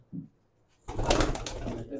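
Pigeons kept by a Punjabi breeder give a brief soft coo, then a dense, fairly loud burst of fluttering and cooing fills the rest, with no voices.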